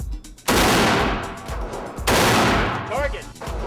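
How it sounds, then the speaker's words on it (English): Real rifle gunshots fired at a target from a firing position, two loud sharp blasts about a second and a half apart, each followed by a long ringing decay, with faint talk near the end. "So now you're going to see what a real rifle does."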